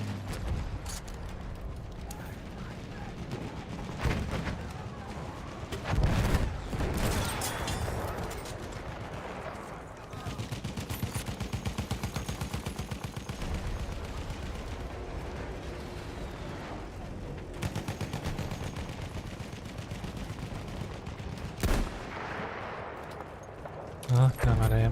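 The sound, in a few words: gunfire at a blimp in a video game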